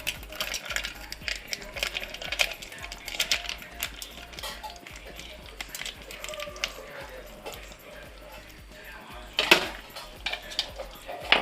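Popcorn kernels poured into a hot pressure cooker, a dense run of small hard clicks and rattles against metal, irregular and close, with a louder burst of pattering near the end.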